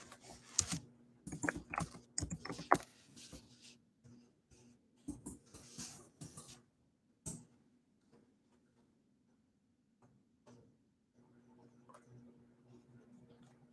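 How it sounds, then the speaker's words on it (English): Computer keyboard typing in quiet indoor bursts, with rapid clustered keystrokes early on, then a few sparse isolated clicks and faint tapping toward the end over a low steady room hum. "Let me type it in."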